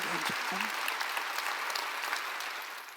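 Church congregation breaks into applause during a sermon, a full crowd of clapping hands that fades slightly toward the end, with a brief voice at the start.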